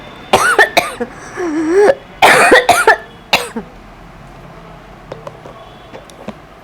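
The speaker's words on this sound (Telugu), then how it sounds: "చాలా ఎక్కువ దగ్గు వచ్చేస్తుందండి" A person coughs hard at close range in several loud, harsh bursts with short gaps between them, followed by a few faint clicks and quiet room sound.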